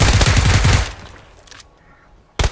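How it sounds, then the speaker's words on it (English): Rapid automatic gunfire in the video game PUBG, a loud dense burst of shots lasting about a second, then quieter scattered noises and a sharp new burst at the end. "Someone is firing at me."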